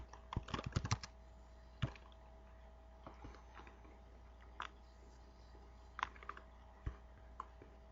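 Typing on a computer keyboard during an Oracle database setup: a rapid burst of clicking keystrokes early on, then sparse, scattered single key taps and short clusters against a low steady hum.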